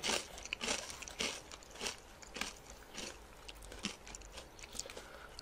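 Loud, close crunching and biting of crispy fried chicken, repeated crackly bites and chewing in an irregular rhythm with no talking.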